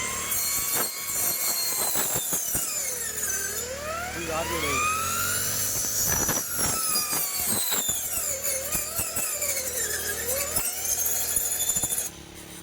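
A handheld brush cutter prunes mango tree branches outdoors, its small engine whining loudly and continuously, with the pitch repeatedly rising and falling as it bites into the wood.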